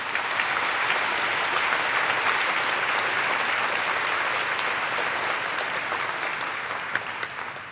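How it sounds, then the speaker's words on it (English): Audience applause at an elementary honors chorus concert, sustained dense clapping from a large crowd that holds steady for several seconds before beginning to taper. "Please give them one more round of applause."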